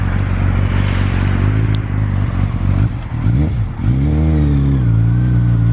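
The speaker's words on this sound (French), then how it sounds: "Un joli moto." A motorcycle passes nearby, its engine revving loud and rising then falling in pitch as it goes by.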